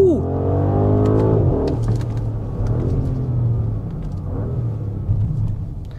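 An Audi Q8 with a biturbo V8 accelerates hard, its engine note climbing steadily as it pulls strongly, heard from inside the car with a voice talking over it.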